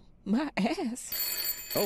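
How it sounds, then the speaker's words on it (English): A telephone rings in the horror video game Layers of Fear, a bright trilling ring entering midway and continuing under a man's startled speech. "that's a phone."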